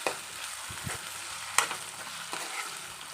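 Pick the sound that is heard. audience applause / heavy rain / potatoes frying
potatoes frying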